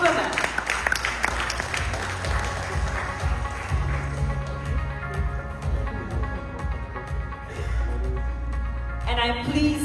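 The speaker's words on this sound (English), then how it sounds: "Ladies and gentlemen, let's give her a big round of applause" Audience applause for a panel speaker at a leadership panel event, a moderate, sustained clapping under music and a voice talking throughout.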